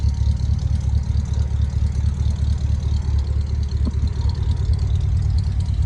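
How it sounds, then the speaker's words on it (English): A 1960 Edsel's engine idles steadily with a deep, throaty dual exhaust rumble, even and continuous throughout. "Smooth running engine."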